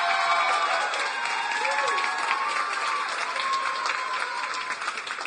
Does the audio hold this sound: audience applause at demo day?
yes